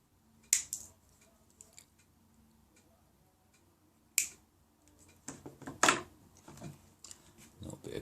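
Small cutters or scissors trimming the grips of wire crimp connectors during motorcycle wiring work, with a few sharp isolated snips followed by a quicker cluster of clicks.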